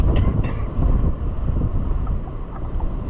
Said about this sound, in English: I love that wind right in my teeth